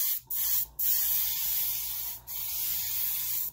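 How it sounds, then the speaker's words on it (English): Airbrush spraying medium yellow paint while leftover white clears from the line, heard as three close, steady hissing bursts separated by brief gaps. "There might be a little white still left off, so I'm just gonna let that spray out."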